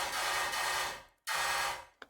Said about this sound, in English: It sounds like this on its own, the small room parallel.